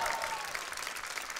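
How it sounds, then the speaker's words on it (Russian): A studio audience at a televised talent-show contest on MUZ-TV applauds a singer and a vocal coach, a dense, loud wash of clapping that stays even throughout. "Аплодисменты, друзья!"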